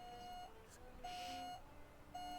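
Alarm in The Sims 2 going off, a faint repeating electronic beep in three evenly spaced tones over quiet background, no voices.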